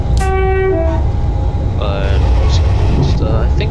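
Siemens Desiro electric multiple unit in Train Simulator 2017 on the Portsmouth Direct Line, a short two-tone horn-like toot at the start, then rising motor whine over steady low rumble, fairly loud and close.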